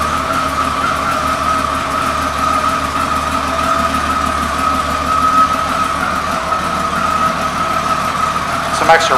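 A 1999 Honda GL1500 Valkyrie Interstate motorcycle engine idles at a dealership, a steady, close, even rumble that holds throughout with no revving.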